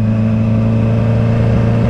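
A 2012 Honda CBR 1000RR motorcycle engine hums steadily at close range, a loud, even mid-pitched drone with strong harmonic tones and no gaps.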